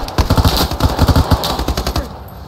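Rapid automatic gunfire in a squad-based military video game, a fast rhythmic string of close, loud shots that stops abruptly near the end.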